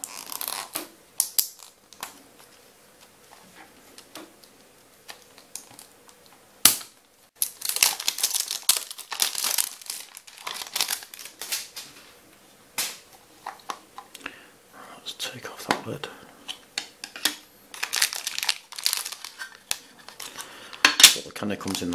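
A plastic bag of Bone Breaker candy is torn and rummaged open, with crinkly rustling and sharp crackles in irregular bursts, close and fairly loud, with a voice speaking softly between them.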